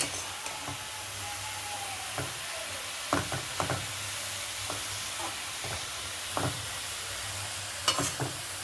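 Cabbage curry being stirred in a pan, a sparse series of soft scraping strokes spaced a second or so apart over a steady low sizzle, close and fairly quiet, with no talking.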